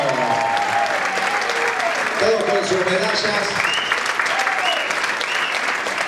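Applause rolls through the audience at a dance gala as young jazz dancers are presented, with a voice speaking briefly over the clapping and cheers.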